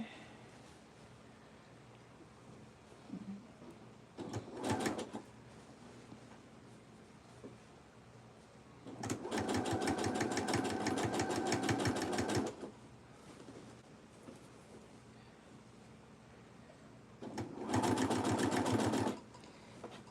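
A sewing machine stitches fabric for a dress in three bursts, one brief and two longer, with quiet pauses between them; the needle is pulling the fabric, and no one speaks.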